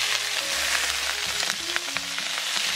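A salmon fillet pan-fries skin-side down until the skin turns golden and crisp, giving a steady close sizzle with faint tonal hums running underneath throughout.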